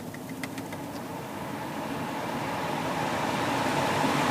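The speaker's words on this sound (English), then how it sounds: "As you can hear the fan speed increasing" Climate control fan in an Infiniti car's cabin ramping up, a broad steady whoosh of air that grows gradually louder over a few seconds, with a few faint clicks at the start.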